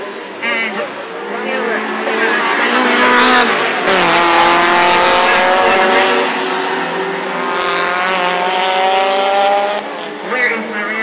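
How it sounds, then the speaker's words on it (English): Race cars roar around Dover Raceway, their loud engines rising and falling as they pass close by, with a brief tire squeal and a voice talking over the din. "like a drag race between Patrick Patterson and"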